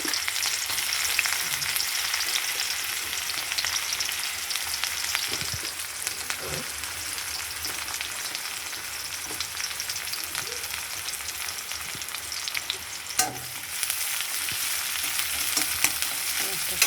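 Onion frying in hot oil with black cumin seeds gives a loud, steady hiss and crackle, with occasional spatula scrapes and clicks throughout and no voices.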